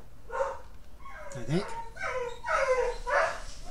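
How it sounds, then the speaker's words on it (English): Excited dog barking and yipping from downstairs, a burst of repeated barks with whimpery tones mixed under a person talking nearby. "The dog is going nuts down there."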